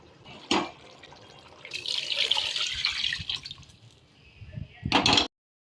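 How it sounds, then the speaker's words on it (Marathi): Hot water pours into a pressure cooker holding moth beans in a steady splashing stream for a few seconds, framed by two sharp clatters of metal, with no talking. "गरम पाणी टाकते"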